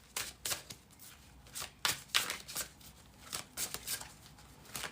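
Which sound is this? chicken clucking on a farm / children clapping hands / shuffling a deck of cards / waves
shuffling a deck of cards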